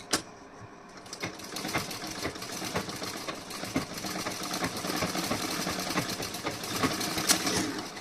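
A sewing machine running a tacking stitch along a decorative neckline, starting after a brief pause and then whirring continuously with a rapid mechanical clatter, close and fairly loud.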